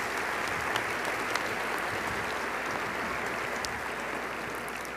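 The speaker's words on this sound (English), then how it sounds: "let's give them a round of applause" Steady round of applause from an audience at a public welcome event for Texas Tech basketball coach Grant McCasland, dense continuous clapping held at an even level throughout, with no talking over it.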